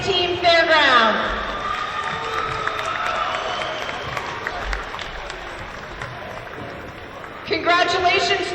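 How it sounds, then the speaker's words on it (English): Crowd applause at a middle school boys' basketball final in Nashua, New Hampshire, with clapping and cheering swelling in a gym while an announcer speaks over it. "how about a round of applause for our second place team, Fairgrounds"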